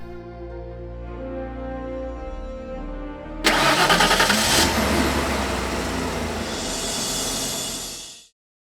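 A car engine, just repaired, cranks and catches with a sudden loud burst, then settles into a steady, close idle before cutting off abruptly.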